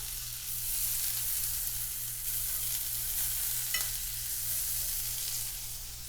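Butter sizzling in an overly hot frying pan before eggs go in, a steady close hiss over a constant low hum, unbroken and fairly even for several seconds.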